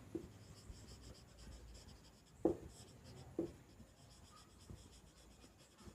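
Marker strokes on a classroom board, quiet scratching broken by a few sharper taps and squeaks spaced a second or so apart, close but faint, with no talking.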